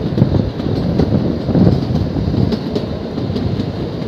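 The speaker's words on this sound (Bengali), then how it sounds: "সিমলায় এসে টয় ট্রেন না চললে তাহলে তুমি কি আর করলে" Shimla toy train running on its mountain line, a loud, steady rumble with rattling carriage noise and some wind buffeting the microphone, heard from on board with no talk.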